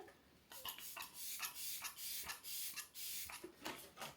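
MAC Fix Plus setting mist sprayed in a series of short, soft hissing bursts, about eight quick pumps close by and fairly quiet, with no talking.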